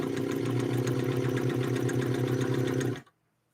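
An Elna Lotus SP sewing machine runs a straight stitch at steady, fast speed, its close, even mechanical hum and needle clatter continuing for about three seconds before stopping abruptly into silence.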